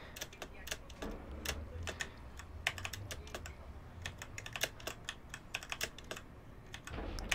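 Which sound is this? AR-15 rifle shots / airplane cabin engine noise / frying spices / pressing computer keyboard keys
pressing computer keyboard keys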